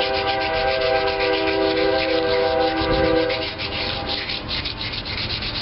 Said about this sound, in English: And as I'm sanding it right there, it's feathering out real good